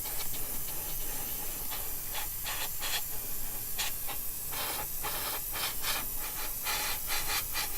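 An airbrush sprays a base coat of paint onto a plastic Bandai AT-AT model kit, a continuous close hiss with repeated short pulses where the spray is triggered in bursts.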